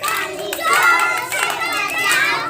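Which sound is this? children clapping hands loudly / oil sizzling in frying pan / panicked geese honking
children clapping hands loudly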